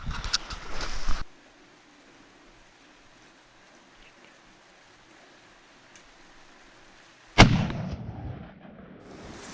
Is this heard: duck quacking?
no